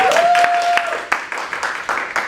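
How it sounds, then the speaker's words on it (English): A class applauding a classmate named Eva during a microteaching lesson, with scattered, uneven claps from a small group and a brief tonal whistle-like sound at the start. "give applause to Eva"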